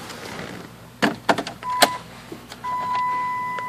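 Power windows of a 2009 Dodge Grand Caravan whir from inside the van, with a few sharp clicks and thumps of switches or locks followed by a sustained motor drone.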